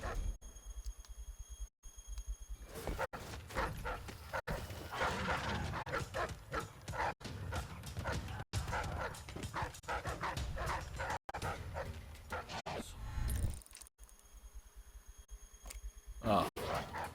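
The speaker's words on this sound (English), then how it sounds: "Hey, I'm not killing dogs." Dogs bark, yip and whimper in Dishonored 2 in repeated close bursts over game ambience and a soft voice.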